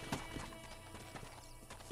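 Rhythmic clip-clop of horse hooves at a quick pace in the video game Red Dead Redemption, with a brief whinny, fairly quiet and without talk.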